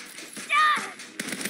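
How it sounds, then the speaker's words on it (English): Sniper gunfire in Saints Row, a few sharp shots and a brief rattling burst amid game noise, with a voice speaking in between. "those snipers are pinning us down"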